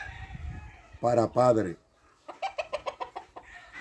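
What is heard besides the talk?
gallino roosters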